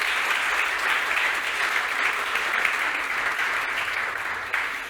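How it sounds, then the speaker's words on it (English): An audience at a motor industry conference gives loud, sustained applause for a panel of experts, a dense and even clapping that holds for the full stretch and eases slightly at the close. "Big applause again for our experts."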